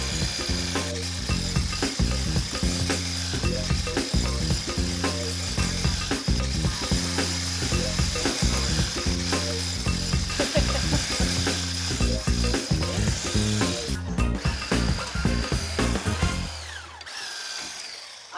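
Electric mixer whipping egg whites to stiff peaks for meringue whirs loud and close with a steady rhythmic churn, running continuously before cutting off near the end.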